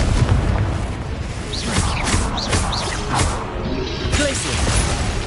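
Fiery spell blasts and whooshing impacts from the Confringo spell in the video game Hogwarts Legacy, several crashes and swooshes overlapping in a busy, steady din of combat effects.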